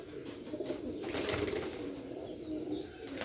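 A Lahori pigeon coos in soft low rolling bursts, close and fairly quiet, with a brief rustle partway through and no speech.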